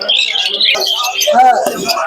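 Birds chirp and call amid the bustle of the Krishnanagar pigeon market, heard beneath nearby voices.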